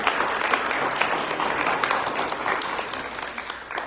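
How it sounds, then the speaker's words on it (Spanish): A church congregation applauds a guest preacher, dense clapping from many hands that stays loud and steady throughout, with faint voices mixed in. "a quien pido que recibamos con un fuerte aplauso"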